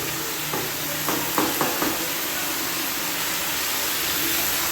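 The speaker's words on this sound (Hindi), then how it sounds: "यहाँ पर हम चिकन को भून रही हैं" Chicken frying in a pan for a home-cooked desi lunch, a steady soft sizzle with a few brief stirring scrapes near the start, heard alone without talk.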